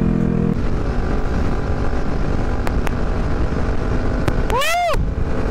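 A motorcycle rides onto an expressway, its engine and wind roar filling the clip steadily and loudly, with a brief rising and falling tonal sweep near the end.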